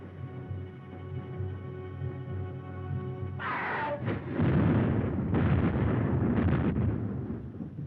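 Naval cannon fire in an old film battle at sea: a low engine-like drone gives way to a heavy booming blast, followed by a long, rumbling roar of gunfire that stays loud to the end.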